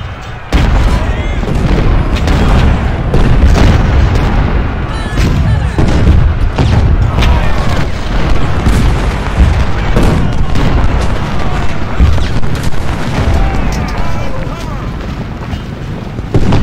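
Battlefield cannon fire in the Ultimate General: Civil War video game at Malvern Hill, loud booming artillery blasts and crackling volleys overlapping densely and continuously for the whole stretch, close and heavy.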